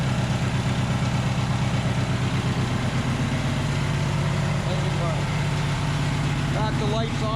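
Taurus 650 trike engine idling, a steady low rumbling throb held throughout at close range, with someone talking over it.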